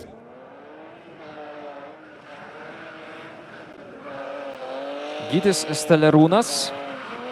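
A drift car at a Lithuanian street drift event in Šiauliai smokes its rear tyres, engine droning steadily then rising into a louder squealing burst near the end, with a commentator talking over it throughout.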